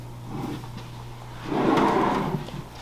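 A bedside drawer in a Disney Saratoga Springs Resort villa bedroom slides open and shut, with a soft early scrape followed by a louder, longer sliding rumble and a light knock, close and without talk.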